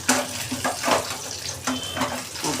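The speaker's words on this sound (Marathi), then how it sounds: "बघा आता आपली मच्छी मस्तपैकी फ्राय होते." Surmai fish fries in a pan over medium-high heat, giving a steady sizzling hiss with soft bubbling pops and occasional light clinks, close and moderately loud.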